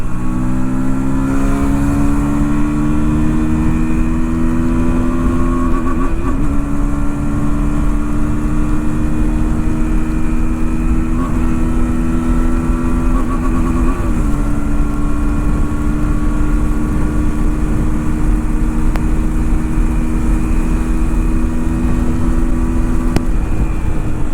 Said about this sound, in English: This is what the all new KTM Duke 160 engine can do.